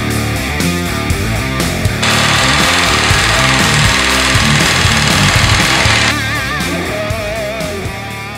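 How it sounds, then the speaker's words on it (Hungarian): A scroll saw cuts a small drop-down door opening into a wooden piece along a drawn pattern line, giving a loud, steady buzzing rasp for about four seconds between quieter workshop sounds, with no talking. "ebbe fogjuk belevágni a lenyíló ajtócskát. Dekopír fűrésszel."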